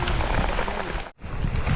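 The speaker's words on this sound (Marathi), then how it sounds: "खूप प्रतीक्षेनंतर पाऊस आलाय तसा" Rain falls steadily beside a river during a group fishing outing, a dense close hiss with a brief dropout near the end.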